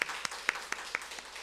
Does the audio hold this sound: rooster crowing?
no